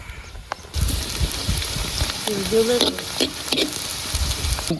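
Garlic dropped into hot oil for village-style egg kheema masala, breaking into a loud, steady sizzle right after a quiet start, with occasional stirring clinks and scrapes over the frying.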